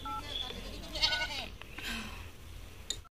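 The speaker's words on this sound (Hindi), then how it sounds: "अभी हम बकरी बांधने के लिए आ गए हैं खेत तरफ" Goats in a farm field let out several short bleats, close by and moderately loud, over a background hum with a voice speaking in it.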